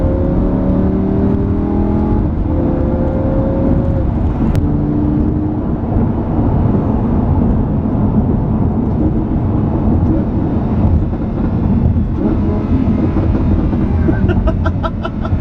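Exhaust of a 2015 Lamborghini Huracán LP610-4 gurgling and popping on throttle overrun, a loud, continuous rumbling drone with shifting tones throughout, close and dense, with crackles near the end.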